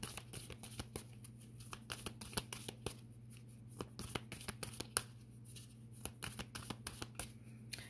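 Tarot cards being shuffled by hand, a steady run of crisp riffling flicks and soft card slaps at close range over a faint background hum, with no talking.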